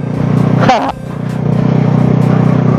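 A motorcycle with a standard engine fitted with a cheap aftermarket racing exhaust idles loudly and steadily nearby, with a brief rev swell early on, then a constant throbbing drone.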